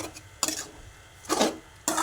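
Curry being stirred in a pan with coriander and curry leaves, three separate scraping rubs of a utensil against the pan, close and fairly quiet, with no talking.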